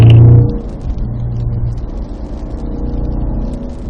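A Cadillac CT5-V Blackwing with a six-speed manual accelerates on a wet race track at Spring Mountain, Pahrump, its engine note loud and steady from start to finish.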